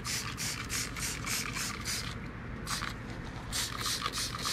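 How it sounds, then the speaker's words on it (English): Foam cleaner sprayed from an aerosol can onto an RC car, a series of short hissing bursts in quick rhythm, close and fairly loud with brief pauses between sprays. "It's a foam cleaner."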